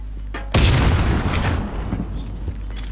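Frag grenade explosion in Call of Duty: Modern Warfare, a single loud close boom hitting suddenly and rumbling away over about a second, followed by faint background battle sounds.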